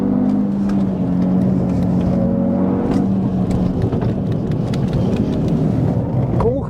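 An Audi TT RS 8S on the move, its five-cylinder engine droning and rising under acceleration amid steady road and wind rush, loud and continuous throughout.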